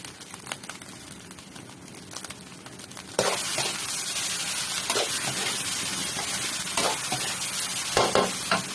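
Food stir-fried in a wok at a made-to-order food stall outside a school, with sizzling frying that gets louder and steadier midway, broken by the repeated scrape of a spatula stirring the pan.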